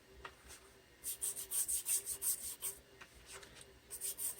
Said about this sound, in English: Just take the model and just scrub it on there.